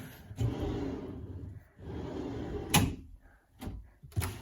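An IKEA Pax wardrobe door in a bedroom swings open with a soft rumbling slide, followed by a couple of sharp knocks and clicks from the door and fittings, close and fairly loud with no speech.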